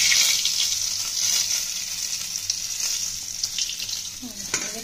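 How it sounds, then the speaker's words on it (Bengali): Boiled meat for yakhni biryani fries over a high gas flame, giving a steady close sizzle with occasional stirring scrapes and a brief clink near the end. "গ্যাসটা জোর আছেই ভাজবেন, কারণ এগুলো তো সেদ্ধ মাংস, আস্তে আস্তে ভাজার দরকার নেই।"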